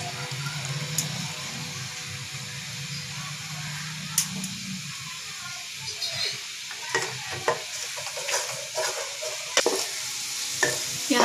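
Onions sizzle in a hot pan for a chicken samosa filling, a continuous close frying hiss broken in the second half by repeated stirring scrapes and clicks of a utensil; no voices.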